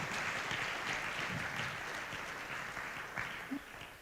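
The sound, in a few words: applause at a school meeting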